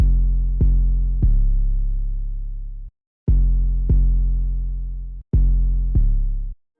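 Spinz 808 bass playing a hard, dark trap pattern that follows the root notes, long booming sustained tones with sharp attacks in a repeating phrase, loud and alone.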